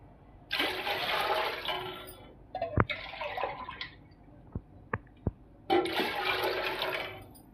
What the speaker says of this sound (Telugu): 4 లోటాలు నీళ్ళు పోస్తున్నాను.